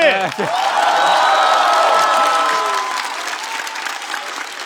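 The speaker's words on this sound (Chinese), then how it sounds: "再次把掌声送给小齐" A studio audience at a roast comedy show bursts into loud, sustained applause that rises sharply and then slowly fades. A voice shouts briefly at the start.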